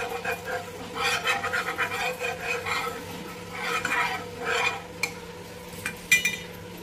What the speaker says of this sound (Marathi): तर आता आपण तेल सोडूया म्हणजे सगळ्या तव्याला व्यवस्थित ग्रीस करूया तेलाने